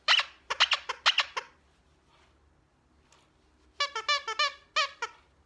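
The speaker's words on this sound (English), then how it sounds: "Squeaky toys incoming." Squeaky dog toys give bursts of sharp, high squeaks, a rapid cluster first and then another series after a quiet gap, loud and close with no talking.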